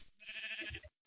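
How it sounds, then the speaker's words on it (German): A single sheep bleat from the video game Minecraft, one short, clear, nasal call heard alone. "Da ist ein Schaf."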